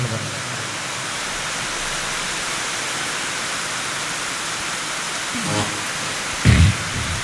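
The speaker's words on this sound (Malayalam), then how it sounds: "നല്ല മഴയാണ്" Steady, dense hiss of heavy rain pouring down continuously, with a brief low rumble near the end.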